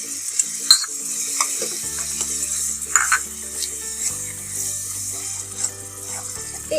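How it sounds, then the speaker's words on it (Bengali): Onion paste and ginger-garlic paste fry in a pan for chicken roast, giving a soft, steady sizzle broken by intermittent scraping stirs and light clinks, close and moderately quiet. "এই আদা রসুন বাটা এবং পেঁয়াজ বাটাটা ভালো করে একটু ভেজে নেব 1 মিনিটের মতন।"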